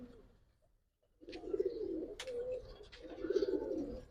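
Racing Giribaz pigeons in a loft coo in two soft, rolling phrases after a short near-silence, with faint clicks and rustles between; fairly quiet and close, no voices.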